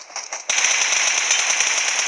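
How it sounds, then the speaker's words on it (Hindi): Gunfire in the mobile battle royale game BGMI, a brief softer lead-in followed by a loud, rapid, continuous rattle of automatic shots with crackling, no voices. "ऊपर फायरिंग आ रहे।"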